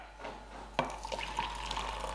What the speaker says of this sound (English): Then we're gonna go half hot water and half white vinegar.